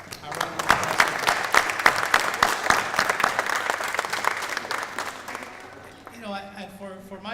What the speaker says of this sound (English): So let's give Gloria America a round of applause.